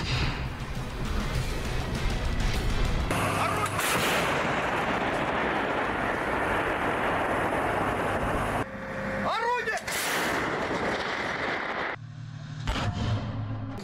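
Artillery shelling in the Russia-Ukraine war: loud, continuous broadband blasts and rumbling that shift between several cuts, with a brief whistling sweep partway through and a quieter rumble near the end.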